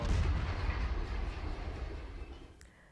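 Heavy, sustained gunfire during fighting in south Lebanon, Hezbollah fighters emerging from a tunnel and firing indiscriminately, a dense continuous roar with deep rumble that eases slightly toward the end, no voices.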